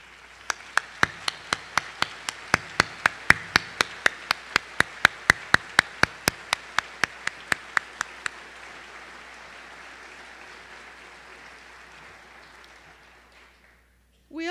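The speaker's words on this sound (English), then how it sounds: "I would now like to ask our class of 2015 to join me by standing to recognize those outstanding faculty and staff through a heartfelt applause." A standing graduating class at a 2015 College of Pharmacy hooding ceremony applauds the faculty and staff. Broad clapping, cut through by a steady run of sharp, evenly spaced claps, fades out gradually over about twelve seconds.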